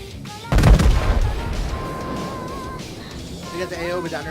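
In the World of Warships game, the USS New Mexico fires a high-explosive broadside: one heavy, booming blast with a long rumbling decay, followed by quieter game ambience and faint voices.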